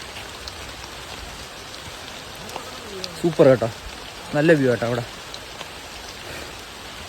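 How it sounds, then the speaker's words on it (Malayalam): Heavy rain pours steadily in a dense, even hiss that lasts throughout, while a person talks briefly in the middle of the downpour. "നല്ല മഴയുണ്ട്."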